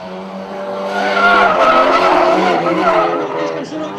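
Race car in a D2N-class event skidding wide out of a turn, a loud rising tire squeal and engine roar over about four seconds, with a commentator talking over it.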